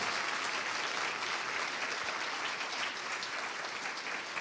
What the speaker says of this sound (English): a big Earthkeeper round of applause for Dr. Samir Osmanagic, please.